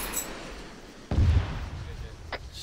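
A single heavy vehicle-mounted weapon blast in Arma 3, a sharp low boom around the middle, followed by a brief rumbling tail and a faint later pop, with voices over radio chatter around it.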